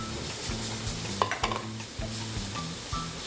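Butter sizzles loudly in a hot pan of finely chopped mushrooms during a cooking lesson, with steady frying hiss, stirring scrapes and a few sharp utensil clinks against the pan.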